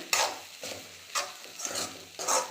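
Spiced green gram (cherupayar) thoran being stirred and fried in a pan, with rhythmic scraping strokes about twice a second over a soft continuous sizzle, close and moderately loud.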